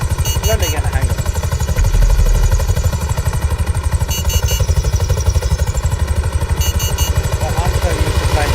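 A helicopter rotor chops steadily and loudly in a milsim game, its rapid beating thrum continuous throughout with a whining turbine overtone and occasional clatter.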